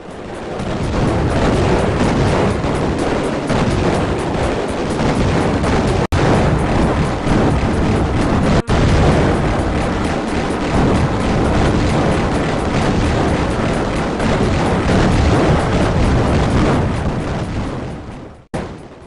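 Loud, powerful explosions and weapon fire from the MS-DOS shoot-'em-up Raptor: Call of the Shadows, a dense continuous barrage of blasts and bursts running throughout with no pauses, close and forceful.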